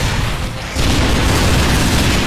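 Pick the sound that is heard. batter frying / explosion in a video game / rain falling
explosion in a video game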